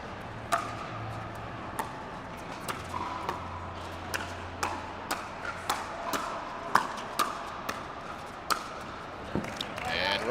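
Four players rally in an indoor pickleball bronze medal match, the paddles hitting the ball in a quick run of sharp, hollow pops, some in fast pairs, over faint arena murmur.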